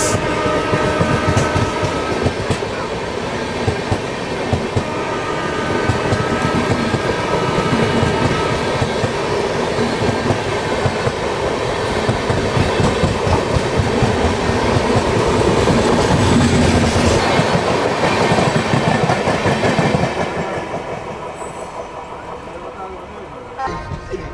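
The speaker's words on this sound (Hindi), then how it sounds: "आश्रम एक्सप्रेस।" Ashram Express sleeper class coach rolling along the rails between Jodhpur and Ahmedabad, a loud continuous rumble with rhythmic clickety-clack and rattling carriage noise from inside the train, easing off toward the end.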